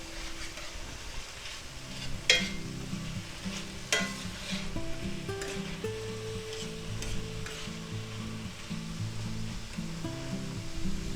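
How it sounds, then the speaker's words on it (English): Minced garlic frying in a pan for a spicy beef lo mein stir fry, a continuous close sizzle broken by scraping stirs and a few sharp utensil knocks, with no talking. "let's put our tablespoon of minced garlic in. And we'll mix that in."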